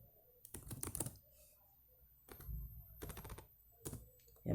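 Quiet computer keyboard typing while writing PHP code comes in short irregular bursts of close, soft key clicks, separated by brief pauses, with faint room noise underneath.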